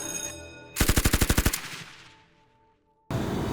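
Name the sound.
gunshots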